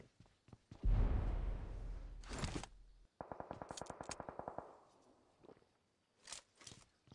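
Gunfire in the mobile battle-royale game PUBG Mobile: a loud burst near the start, then a fast rhythmic run of automatic shots with a few scattered single shots afterward, with no voices.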